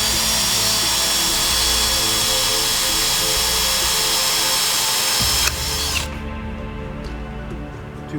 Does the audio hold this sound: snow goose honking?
no